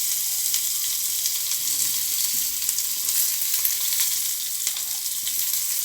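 Garlic and ground onion sauté in hot oil in a pan for a potato brinjal kadaisal, a loud, even sizzle with occasional light stirring and no voices.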